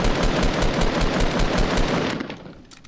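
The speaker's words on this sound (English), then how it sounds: "I'm trying to shoot out the floor from under" Rapid automatic gunfire in a battle-royale video game, fired down to shoot out the floor beneath an enemy; a steady, loud burst of closely spaced shots that tapers off and fades near the end.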